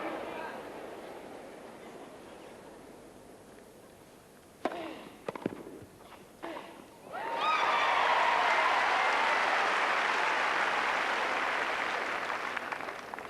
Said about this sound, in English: Crowd is getting a little bit more into it again.